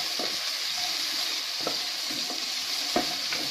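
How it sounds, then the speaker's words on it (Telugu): Onion pieces fry in oil after cumin for a mushroom curry, giving a continuous close sizzle punctuated by several light spoon scrapes and taps against the pan. "ఉల్లిపాయ ముక్కలు వేసుకోవాలి। కొంచెం బాగా వేగించుకొని"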